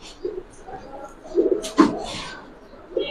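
Pigeons at a pigeon farm give a few soft, low coos at irregular moments, with a brief flutter in between, against a quiet room background.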